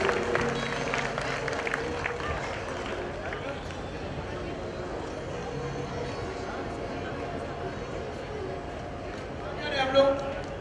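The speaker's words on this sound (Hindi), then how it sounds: "जोरदार तालियां बजा करके स्वागत कीजिएगा।" A crowd at a Jain Panchkalyanak religious ceremony in Baraut gives sustained applause to welcome a visiting legislator, a broad steady wash of clapping blended with voices and some tonal background sound.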